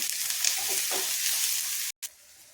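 Crushed ginger and garlic sautéing with onion in a pan: a steady, bright sizzle throughout, with a brief dropout near the end before the frying resumes more quietly.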